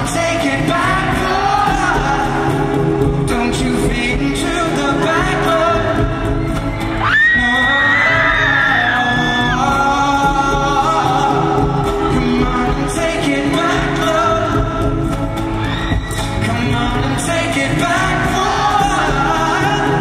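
A concert crowd at a live show at the Sprint Center in Kansas City sings and screams along over loud, dense music, with shouts and whoops rising in the mix throughout.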